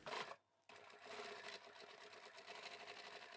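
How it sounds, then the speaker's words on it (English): A sewing machine runs close by, stitching the side seams of a fabric sling bag with a fast buzzing whir, briefly pausing before resuming steadily. "We're only sewing up the side seams."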